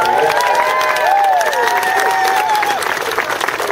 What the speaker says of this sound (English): I want you to give him a big round of applause